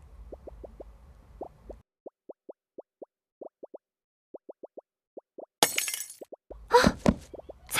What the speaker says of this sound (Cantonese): 打爛咗隻杯啊！